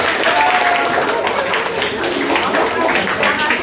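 Applause from an audience at a school positive-culture session, dense continuous clapping, loud and close throughout.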